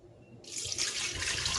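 Warm water for keto bread dough is poured into a bread machine, a steady splashing hiss that starts abruptly and runs continuously at moderate loudness close by, with no voices.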